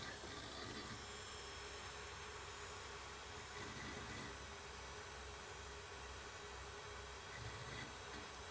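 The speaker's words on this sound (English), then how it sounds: "listen to that drive go rattling away" A Packard Bell Windows 98 desktop PC booting, its hard drive seeking under a steady, faint fan and motor hum, with soft irregular rattling ticks running continuously throughout.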